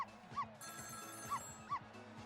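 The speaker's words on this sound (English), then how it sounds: "It was the sound of a telephone ringing, coming from the apartment next door." A telephone rings in the neighboring apartment in the Ghost Trick: Phantom Detective video game, its electronic trill sounding in three short bursts over a steady game music bed.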